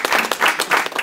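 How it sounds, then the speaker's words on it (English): A brief, close burst of applause from a small group, a dense patter of clapping lasting about a second. "Round of applause."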